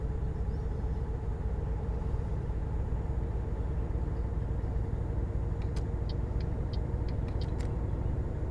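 A truck engine in Euro Truck Simulator 2 gives a steady, low, quiet rumble as the truck speeds up, with a few faint ticks near the end.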